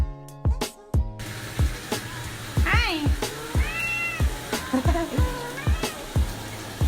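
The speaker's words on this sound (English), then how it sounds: "I have a cat named Callie" A pet cat meows several times close to the microphone, with rising and falling cries, over a steady rhythmic tapping and background hum, and speech is faintly present.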